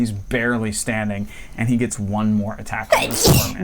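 Someone talks steadily, then a sudden loud, breathy sneeze bursts out near the end, close and sharp.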